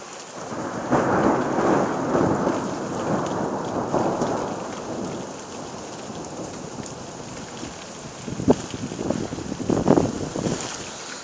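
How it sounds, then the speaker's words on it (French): A violent thunderstorm over Carpentras in the Vaucluse, with steady rain pattering on surfaces and low rolling thunder rumbling throughout, broad and continuous, with a few sharper drops and swells near the end. "c'est dommage qu'il y a la pluie qui tombe un peu là"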